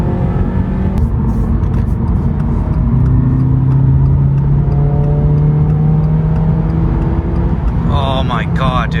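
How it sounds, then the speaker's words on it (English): A Subaru BRZ accelerating hard at full throttle, its engine note climbing steadily and loud throughout with strong road and wind roar, heard from inside the car. "I'm gonna floor it a little bit."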